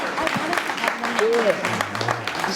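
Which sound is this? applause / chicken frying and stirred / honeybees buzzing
applause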